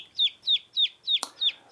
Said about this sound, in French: La poule, elle caquette, ou glousse